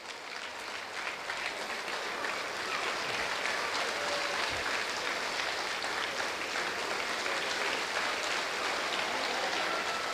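Audience at an entrepreneurship motivation event applauding, a dense, continuous clatter of many hands clapping that holds steady throughout.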